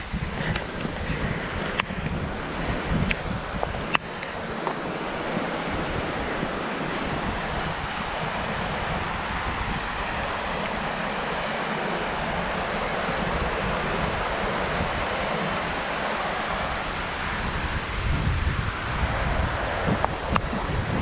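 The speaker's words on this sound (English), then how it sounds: "Here is the Ausable River." Ausable River in the Adirondack High Peaks, New York, rushing steadily as a broad, continuous wash of water noise mixed with gusting wind buffeting the microphone, with no voices.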